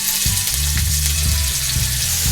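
Meat browning in a hot pan for Durban bunny chow: a loud, close, continuous sizzle and fry with a few low thumps and knocks from the pan, no talking.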